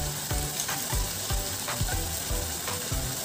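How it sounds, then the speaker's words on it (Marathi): Dry spices (red chilli powder, turmeric, coriander powder, garam masala and biryani masala) sizzle and fry in hot oil for biryani, a steady close crackle with rhythmic stirring scrapes, no talk. "आता आपण यात काही कोरडे मसाले टाकूयात"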